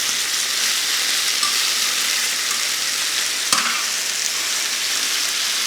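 Chicken pieces frying in a pan, a steady loud sizzle throughout with a brief clack near the middle, no talk.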